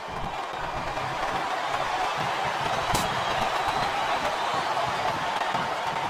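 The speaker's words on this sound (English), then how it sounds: "listen to that chant, Taz" A crowd in the wrestling video game WWE SmackDown vs Raw 2007 roars in a steady, dense wash of arena noise with a faint chant blended in, continuous and even throughout.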